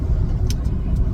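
Heavy road traffic heard from inside a moving vehicle in La Union, a loud continuous low engine and road rumble with a couple of brief hissing swells as cars pass nearby.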